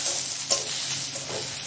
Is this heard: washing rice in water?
no